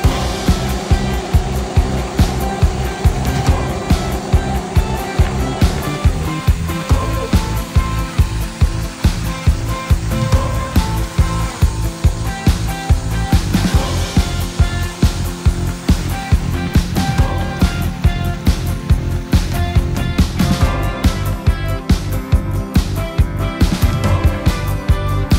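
A boat pounds across choppy sea on the way back to mainland Manila, with loud steady engine roar, wind and rhythmic hull slaps repeating over about twenty-five seconds, no talking.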